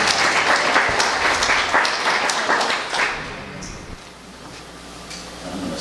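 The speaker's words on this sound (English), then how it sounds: "now you can clap for her" Congregation members clap for a woman at a Rev. Rafe A. Ellis service, dense applause for about three seconds that thins into a few scattered claps and fades to quiet.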